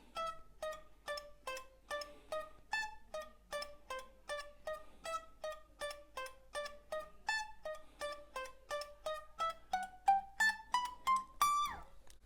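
Rapid alternate-picked electric guitar notes in a quick even stream, climbing gradually in pitch toward the end, clean and fairly quiet with no talking.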